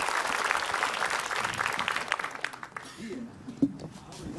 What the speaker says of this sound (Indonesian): Untuk itu tepuk tangan buat Ustadz Abdul Kafi